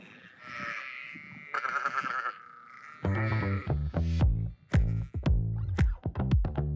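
Sheep bleat on a windy farm at Mount Compass south of the Adelaide Hills, a string of loud, close, wavering calls that grow more frequent and overlap toward the end.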